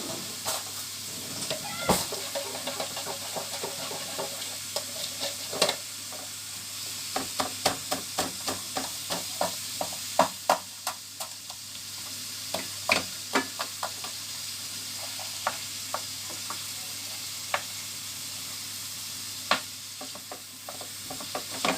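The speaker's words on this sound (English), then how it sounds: "So we'll get that frying down." Food sizzles steadily in a pan while a utensil scrapes and clacks against it in irregular taps, close up, with no talking.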